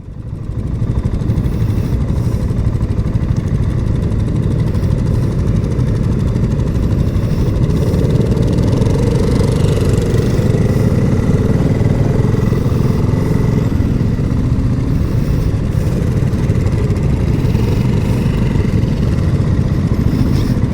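A BSA Gold Star motorcycle engine runs steadily and loudly for a long stretch during a test ride at a festival, a continuous deep throb and rumble with slight shifts in pitch and no talking.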